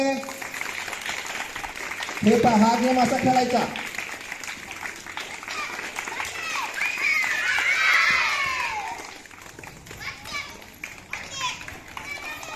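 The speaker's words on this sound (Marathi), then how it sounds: "टाळ्या वाजवा रे" Children clap their hands during a playground game. Scattered claps mix with kids' chatter and shouts, and an adult speaks over them.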